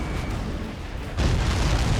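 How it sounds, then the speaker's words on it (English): An enemy supply ship explodes in the Ace Combat 7 flight combat game, a sudden deep boom that swells into a loud, sustained rumble over steady engine noise. "Did you see that explosion? Looks like that's one of them down."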